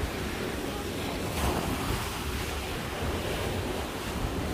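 Strong wind at a family campsite during a storm with heavy rain, where a tent has collapsed, roars as a steady, loud, broadband rush with gusty swells right against the microphone.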